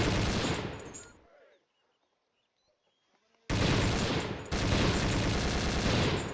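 Bursts of automatic gunfire in the video game Conflict Desert Storm: a loud rapid volley that cuts off into near-silence, then two long dense barrages.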